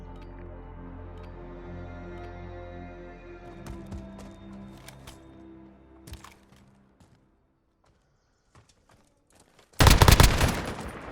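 Gunfire in the video game Call of Duty: Modern Warfare (2019) erupts as a loud, dense rapid volley near the end, after a stretch of sustained tonal game sound and a few scattered sharp cracks.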